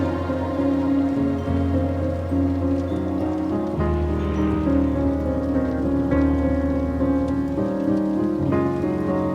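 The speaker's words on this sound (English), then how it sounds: "Going back to the rain sound." Steady rain texture runs under the instrumental close of a song, with sustained tonal chords and soft pads layered over a constant wash of falling rain, full and even in level.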